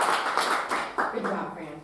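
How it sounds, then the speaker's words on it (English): A small group claps briefly after a speaker at a property investing session for real estate agents, the clapping fairly quiet and mixed under talking and chatter close by. "Let's give her a round of applause."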